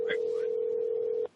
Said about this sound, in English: we're going to give Crystal a call now